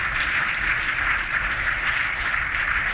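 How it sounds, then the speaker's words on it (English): Sustained crowd applause rolls on without a break, a thick even wash of many hands clapping at constant loudness throughout, with no gaps or voices standing out. "This is the longest clapping I've ever heard."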